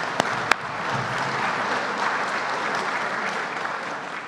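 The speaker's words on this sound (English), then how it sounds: "Give him another round of applause." A dinner audience applauds the Port Authority Color Guard with steady, full clapping throughout and two sharp louder claps near the start.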